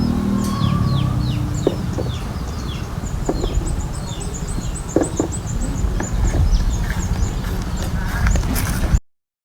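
Laying hens at a school farm cluck and squawk in a busy chorus, with repeated calls and occasional louder cries close by over a steady rustling background, ending abruptly.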